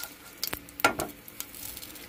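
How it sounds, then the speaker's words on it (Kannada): Mustard seeds crackle and pop in hot oil during tempering for a flat avarekayi palya, a few sharp close pops over a faint sizzle, with no talking. "ಸಾಸಿವೆ ಚಟಪಟ ಸಿಡಿತಾ ಇದೆ"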